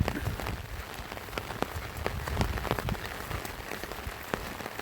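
Rain falls steadily outdoors during a fishing outing, a dense continuous patter of drops on surfaces with scattered sharper taps, fairly close and even throughout, with no voices.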